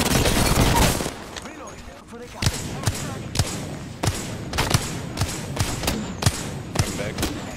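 Gunshots in an Apex Legends-style shooter match with Octane: a loud burst opens, then a run of single sharp shots at an irregular, fairly quick pace over background game noise.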